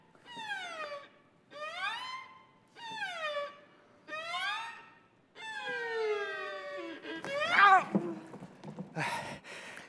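A series of drawn-out, rising and falling meows repeats at a steady pace during a stage comedy, followed by louder, rougher cries and some noise.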